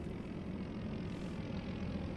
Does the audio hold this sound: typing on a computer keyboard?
no